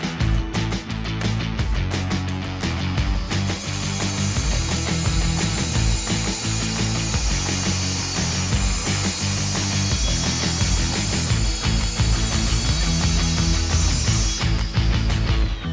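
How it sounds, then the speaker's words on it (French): A Hilti DSH 600 cordless concrete saw dry-cuts a tile, giving a loud, continuous high-speed grinding whine with gritty rasping throughout. It is up close, with no talking. "on va tester la tronçonneuse directement"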